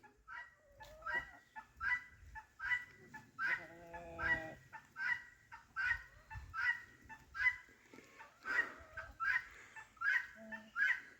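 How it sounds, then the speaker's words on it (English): Guinea fowl call repeatedly from a short distance outdoors, a steady run of harsh, rhythmic two-part cries that continues without pause, with a few other bird sounds mixed in. "I can hear the guineas up there"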